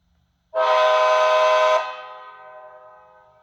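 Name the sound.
model train locomotive horn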